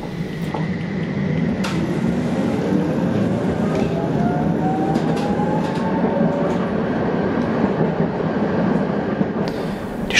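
A tram in Gotha, Germany rolls along its street tracks with a steady rumble, faint rail squeal and occasional clicks from the wheels, loud and continuous.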